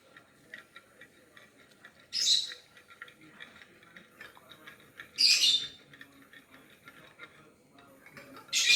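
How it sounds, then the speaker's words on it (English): A wire whisk beats a cinnamon-flecked mixture in a bowl, giving a steady run of light, quick ticks, with three louder, brief scraping bursts spaced a few seconds apart. "Now I'm going to be whisking it"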